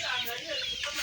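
Fairly large chicks at feeding time, fed a mix of booster and chick mash, give a steady run of clucking and chirping that carries on without a break through the second-long moment.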